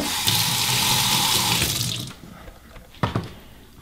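Hot tap water running over strawberry yogurt popsicle molds in a sink, a loud steady splashing stream for about two seconds, then the flow stops and a few sharp knocks and drips follow.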